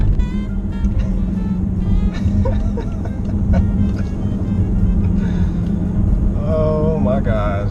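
A BMW F10 M5 with an Akrapovic exhaust rumbles steadily up close, a deep continuous engine drone with faint mechanical ticks, while people talk over it.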